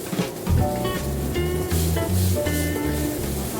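Fried rice sizzles in a hot pan while being stirred and tossed, a steady frying hiss with scraping strokes, under music.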